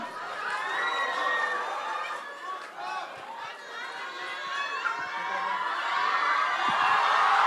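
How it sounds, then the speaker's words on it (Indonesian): Audience at a stage event cheers and claps as guest Tom Lembong is called up, a steady crowd roar of chatter, shouts and applause that continues throughout, swelling slightly toward the end. "Tepuk tangan untuk Tom Lembong."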